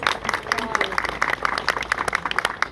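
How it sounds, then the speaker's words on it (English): An outdoor crowd at a covered bridge's 175th anniversary celebration gives a round of applause, scattered sharp claps at moderate volume, with a voice speaking through part of it. "Big round of applause."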